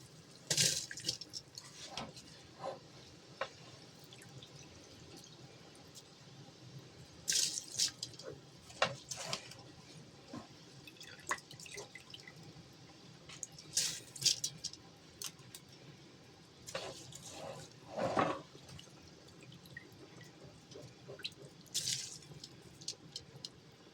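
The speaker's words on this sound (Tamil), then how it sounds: "இப்போ இது கூட நம்ம வந்து 1 கிலோ அரிசி சேர்த்துக்கலாம்." Rice goes into a pot of boiling water for home-style chicken biryani, with scattered splashes, wet stirring and dripping over a quiet bubbling background, intermittent and fairly soft.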